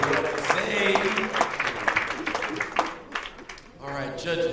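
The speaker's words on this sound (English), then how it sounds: "Round of applause for Poetic Zane." An audience at a poetry slam claps for a poet, with scattered, uneven applause mixed with voices and crowd noise and a brief dip near the end.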